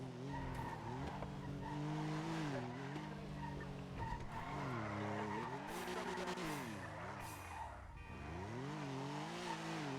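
Car in the NoPixel game accelerating hard with its engine rising and falling in pitch, tires squealing and skidding repeatedly through turns; loud and continuous with no pauses.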